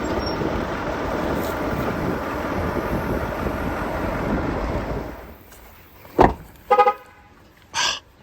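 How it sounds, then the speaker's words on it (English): A car horn on a vehicle at an Oklahoma hunting spot gives three short honks near the end, the second a quick double toot, after a long stretch of low engine rumble fades away. "What are you honking the horn for?"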